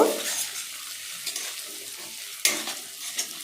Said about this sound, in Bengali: তো খুন্তি সাহায্যে একবার ভালো করে আমি নাড়িয়ে নেব